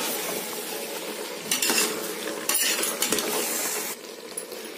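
A spoon scrapes and clanks against a pot while country chicken biryani is stirred, irregular metallic knocks and scraping bursts over a faint sizzle, close and moderately loud, with no talking.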